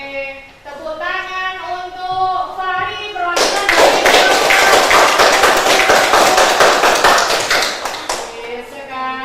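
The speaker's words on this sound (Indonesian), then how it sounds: "tepuk tangan untuk Fari" Classroom applause for a student named Fari: after a few seconds of a voice speaking, a burst of many hands clapping breaks out and carries on loud and dense for about five seconds before the voice returns.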